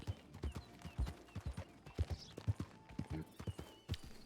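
Horse hooves in the RedM western game, a steady clip-clop gait of close, evenly spaced footfalls at a brisk pace, with faint talk underneath.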